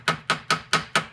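Five evenly spaced, sharp metallic hammer taps on a nut threaded a few turns onto a front strut bolt of a Hyundai Elantra, loud and close with nothing else heard.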